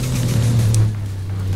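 A Toyota Supra MK4 engine in Forza Horizon 4 holds a steady, droning note at heavy throttle, close and loud, with no voices.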